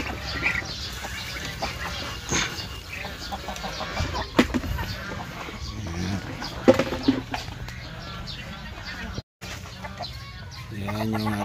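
Pet ducks on a backyard poultry keeping spot, giving repeated squawks and clucking calls across a busy mixed background, with someone talking intermittently over the birds and a brief dropout near the end.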